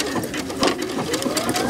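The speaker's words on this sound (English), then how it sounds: "So now if I were to sew my next row," A sewing machine fitted with a border guide foot stitches a quilting row, its needle chattering in a quick steady rhythm, close and fairly loud, running continuously throughout.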